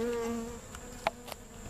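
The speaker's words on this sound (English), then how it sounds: "bees are returning." Homeless field honeybees return to the empty spot where a tiny swarm was relocated, a soft close buzzing of several bees with a few individuals droning past.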